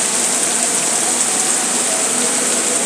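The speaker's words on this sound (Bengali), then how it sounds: "খুবই ভয়াবহ বৃষ্টি হয়েছে আজকে" Heavy rain pours down steadily, flooding a road: a loud, constant, close wash of downpour with no break and no voices.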